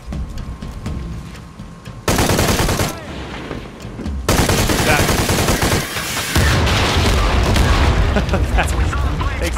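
Bursts of gunfire in the Shadow of the Tomb Raider video game, loud and dense, with shots and booms stacking into sustained firefights over game ambience, and a voice talking at points.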